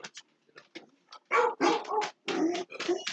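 Several dogs bark and yip indoors in a rapid, close, loud burst of overlapping barks with short gaps, with no talk over them.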